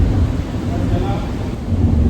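Heavy thunderstorm in Abidjan, Côte d'Ivoire, a loud, steady wash of pouring rain with low rumbling thunder and wind buffeting the microphone throughout.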